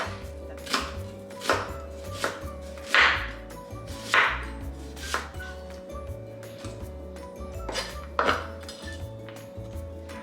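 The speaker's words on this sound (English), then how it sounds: "We're also gonna cut half a white onion" A knife cuts half a medium white onion into julienne strips on a board, producing a series of distinct, close chopping knocks at an irregular pace with a few brighter, louder strokes.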